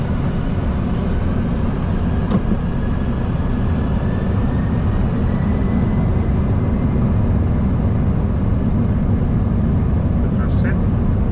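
Boeing 747-400 engines spooling up during the takeoff roll, heard from inside the cockpit as a loud, steady low roar that fills the whole stretch, with brief crew callouts over it.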